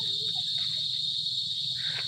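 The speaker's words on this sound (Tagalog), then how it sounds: "Nakakamiss yung maghuni-huni ng mga kuliglig." Crickets chirp in a steady, high, continuous drone that runs unbroken from start to end, fairly loud and alone with no talking.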